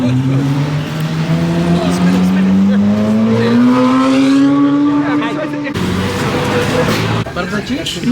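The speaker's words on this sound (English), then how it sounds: "The Ferrari's back. He's just gonna be going up and down the streets." A Ferrari sports car driving up and down city streets, its engine revving in a long rising pitch and then dropping as it pulls away, loud and fairly close, with people talking nearby.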